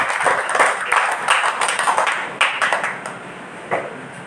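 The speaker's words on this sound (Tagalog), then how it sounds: "Kahinay sa ilang palakpak." Church congregation claps during a sermon, a loose burst of hand claps with distinct pulses that thin out and become more scattered toward the end, under a faint background murmur.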